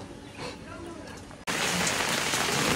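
Heavy rain pours down in a dense, steady hiss that cuts in suddenly and loudly after a quieter moment with a voice.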